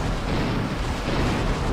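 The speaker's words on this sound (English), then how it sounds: "That's shooting back with a naval gun." Naval gun fire from a destroyer in a strategy game, heard as a dense, continuous rumble of booming reports at steady loudness with no clear gaps.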